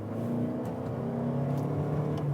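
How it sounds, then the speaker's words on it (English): A 2021 Toyota Venza Limited hybrid accelerating hard, its gas engine and electric motors driving an eCVT, giving a steady, rising engine drone with a whirring tone, heard alone and fairly close throughout. "once you gun it, the gas motor brings the horsepower and the electric motors bring the torque."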